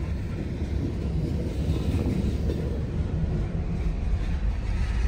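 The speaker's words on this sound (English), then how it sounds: "I've been sitting here waiting for like 10 minutes now. This sucker is long." A long train rolls past a waiting vehicle, a constant low rumble and clatter of rail cars that holds steady throughout with no talking.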